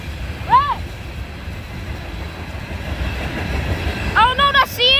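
A coal freight train rumbles past at close range, with continuous wheel and car noise, a horn blast near the start and more horn calls at the end.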